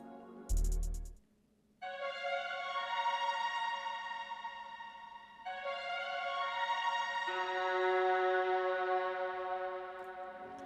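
Ambient string accent from a Soft Hearted library preset, entering as sustained, layered tones after a short hit, then holding and shifting to a second chord with a brighter upper line, soft and smooth throughout.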